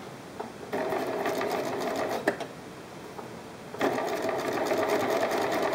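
A sewing machine stitches fabric for a beginner bean bag project along a quarter-inch seam, running in two steady, close bursts separated by a short pause.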